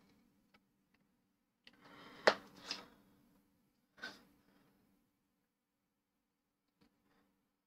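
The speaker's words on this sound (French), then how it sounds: "La mouche." A housefly buzzes in brief bursts around a quiet indoor room, with a louder pass near the middle and a shorter, fainter one just after, then fading to near silence.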